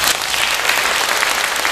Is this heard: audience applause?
yes